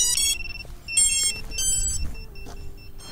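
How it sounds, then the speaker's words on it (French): Short electronic beeps chirp repeatedly from the buzzer on an FPV drone over a low rumbling background, fairly close and clear, with a few pauses between bursts. "vous entendez biper là, du coup c'est le buzzer tout simplement sur mon drone"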